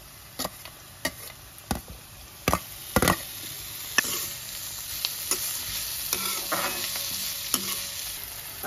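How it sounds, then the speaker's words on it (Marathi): Onion and tomato sautéed in a pan with sharp spatula knocks and scrapes at irregular intervals over a rising, steady sizzle, close and clear. "कांदा परतून घेते"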